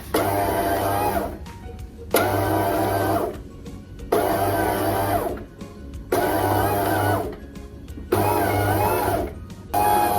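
An automatic bread maker kneads dough in a steady loud motor whir that runs in bursts of about two seconds, each broken by brief pauses, five cycles in a row.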